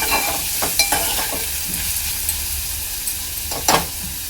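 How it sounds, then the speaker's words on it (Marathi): Onions frying in a pan for a dry fish tamarind curry, a steady close sizzle with a few sharp spatula scrapes and taps as they are stirred, no voices present. "कांदा चांगला लाल होईपर्यंत परतून घ्यायचा आहे।"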